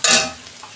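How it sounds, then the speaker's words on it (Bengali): Onions fry in a pan with a brief, loud sizzle burst that quickly fades into a softer hiss. "এই যে পেঁয়াজটা আমি ভেজে নিয়েছি"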